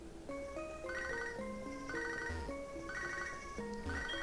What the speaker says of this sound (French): Alors non, je ne vais pas décrocher le téléphone.